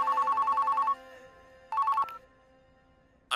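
A telephone rings in a movie scene, a long electronic ring burst followed by a shorter second one, fairly clear and close with quiet room tone between rings.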